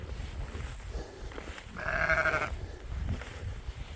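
A sheep bleats once in a field of tall grass and goatweed, a single wavering call of about a second standing out over low outdoor background noise.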